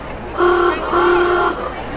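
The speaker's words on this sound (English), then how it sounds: "Anytime I hear them honk the horn, it just makes me giggle." A vehicle on Disneyland's Main Street sounds two loud, close horn honks, a short toot and then a longer one, with a brief gap between them over background crowd murmur.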